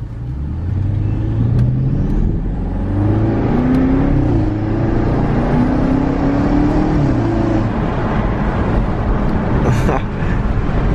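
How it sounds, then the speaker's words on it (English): A BMW X5 50i with catless downpipes accelerates through low gears, its engine droning loud and steady with rising and falling pitch as it revs, heard from inside the car under heavy wind and road noise. "see if you guys can hear the turbo spool"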